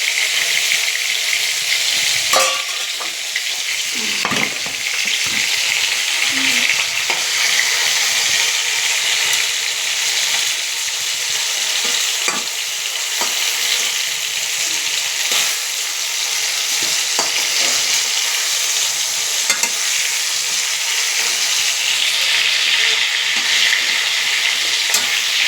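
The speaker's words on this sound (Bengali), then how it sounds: "বেগুনগুলো মাছের সাথে দিয়ে বেগুনগুলো ভাজা হয়ে গেছে" Eggplant pieces frying alongside fish in a pan of hot oil, a loud continuous crackling sizzle with occasional scrapes and taps from a utensil throughout.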